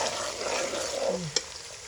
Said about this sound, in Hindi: मैं प्याज ऐड करूँगी और साथ साथ हल्का हल्का मैं चम्मच हिलाती जाऊँगी ताकि हमारा प्याज बराबर ब्राउन हो